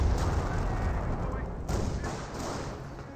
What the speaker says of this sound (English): Artillery barrage could have been a 25-pounder barrage from his teammate.